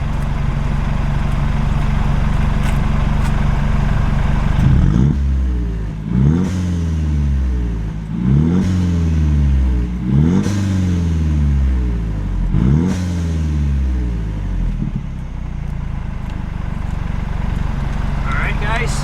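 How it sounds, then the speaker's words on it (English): A Mercedes E300 with QTP exhaust cutout valves fully open gives a series of sharp high-RPM revs that rise and fall in repeated bursts. Each burst lands close and loud, and a voice talks before and after them. "I'm going to do a few revs, some high RPM revs. Let you guys hear the growl."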